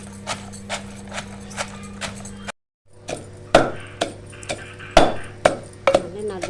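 Gongura leaves, chillies and salt are pounded in a stone mortar for a chutney, with a steady series of dull thuds, a brief pause, then heavier, sharper strikes.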